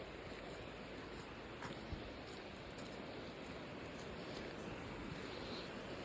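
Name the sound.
river flowing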